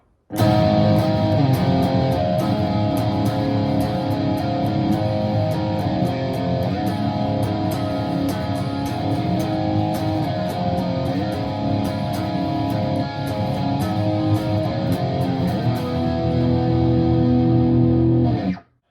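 Distorted electric guitar plays a power-chord chorus from a song through effects, loud and steady throughout with no pauses.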